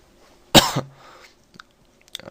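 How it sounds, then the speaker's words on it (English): A single harsh cough bursts out close up, followed by a brief throat-clearing rasp and a couple of faint clicks, with no talking around it. "I'm coughing in your face here"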